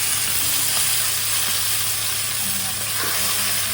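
Ground spice paste of fried bay leaves and dried red chillies hitting hot oil in a pan, a loud continuous sizzle and crackle throughout with no pauses.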